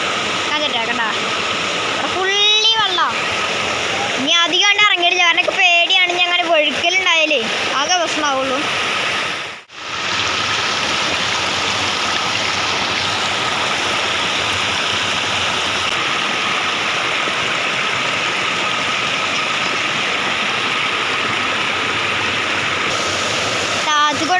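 Loud, steady rush of stream water flowing hard throughout, with a burst of higher chirping or squeaky sounds briefly over it near the start.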